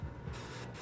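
Createx Transparent Yellow paint is airbrushed onto a fishing lure, quiet close spray hissing in short bursts with a brief pause between them.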